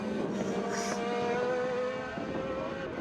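A Radical racing car and others working through the Crossley chicane at Kirkistown circuit, engines droning with shifting pitch as they brake and turn in, the note dropping partway through as the cars pass, under a steady outdoor rumble.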